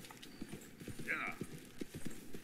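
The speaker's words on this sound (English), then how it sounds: "There's my horse." Horse hooves clip-clop in Red Dead Redemption 2, a quick, quiet, uneven rhythm of hoofbeats on a dirt road, with a short whinny or snort partway through.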